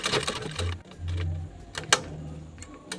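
A sewing machine stitches a bag with a magnetic snap, running in short motor-hum bursts with faint mechanical clicking and pauses between runs.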